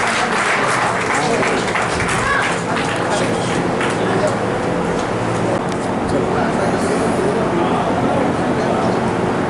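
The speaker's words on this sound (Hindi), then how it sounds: "एक बार जोरदार तालियां से इनका अभिनंदन करें, स्वागत करें, अभिनंदन करें" Loud applause welcoming guests at a Lions district governor's official visit event, dense crowd clapping sustained throughout, with some voices mixed in beneath.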